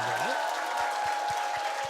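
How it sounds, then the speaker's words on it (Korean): Applause from an audience in a church senior-school praise class, a steady even clatter of many hands under a sustained musical tone, with low thumps recurring through the clip. "앞으로 모실 때 박수 주세요"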